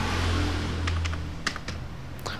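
Close computer keyboard typing, a handful of sharp key clicks spaced irregularly over a low steady hum, without any talk.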